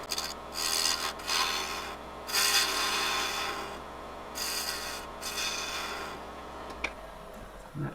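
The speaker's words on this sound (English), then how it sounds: "I'm going to get the bigger gouge here and flatten that bottom off now" Wood gouge flattening the bottom of a lid on a wood lathe, giving steady rasping scrapes in several sustained passes over a constant low motor hum, with no voices.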